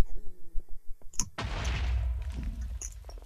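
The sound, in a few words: explosion in a video game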